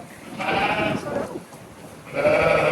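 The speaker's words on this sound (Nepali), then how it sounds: "भेडा भेडा" Sheep bleat at an adventure park in Japan, two or three wavering, nasal calls close by with short pauses between them.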